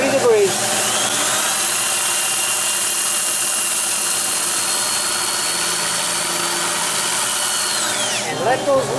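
A lathe spinning a eucalyptus water lily box while sandpaper is held against it, a steady whirring motor hum with a loud, continuous abrasive hiss that stops near the end.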